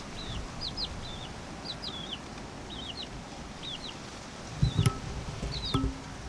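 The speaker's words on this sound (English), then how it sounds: "we got roosters, chickens, all the little chicks" Key West chickens and roosters cluck and chirp outdoors in a quick run of short repeated calls, fairly faint over a soft background, followed near the end by a couple of louder bumps.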